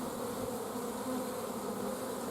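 Honeybees swarm near a hive box during a nuc install, producing a steady, even buzzing hum that fills the background with no voices.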